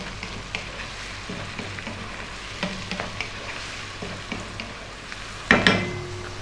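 Sliced mushrooms and bell peppers sizzle steadily in a hot pan for a vegetable penne, with scattered clicks of a utensil stirring and a louder scrape and clatter near the end.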